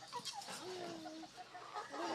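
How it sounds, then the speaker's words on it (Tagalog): Faint clucking from a 4-month-old Rhode Island Red hen in short, scattered calls over a soft outdoor background hum. "Yan yung 4 months old ko na Rhode Island Red."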